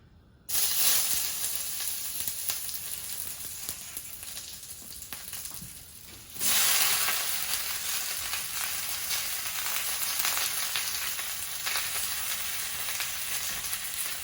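Garlic and bok choy hit smoking hot oil and sizzle loudly, a steady close hiss that surges again midway as more goes into the pan, with no voices.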